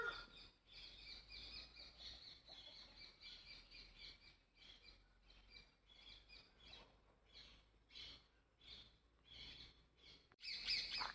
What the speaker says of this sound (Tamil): குருவி சத்தம்லாம் கேட்குது.